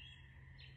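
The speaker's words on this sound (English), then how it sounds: "He also sees a bird." A bird chirps in quiet, steady high tweets throughout, with a low background hum beneath, heard from a phone-recorded short clip.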